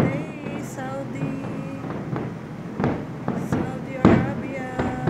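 National Day fireworks over Jeddah, Saudi Arabia, pop and crackle in a series of sharp bursts and thuds, seen from a house nearby, with people exclaiming and talking over them.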